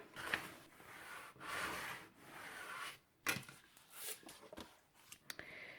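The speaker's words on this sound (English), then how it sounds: "And now I'm going to burnish this." Paper on a Prima Havana interactive mini album is burnished by hand, giving close, soft scraping rubs in several uneven strokes, with a few sharper taps and scuffs near the end.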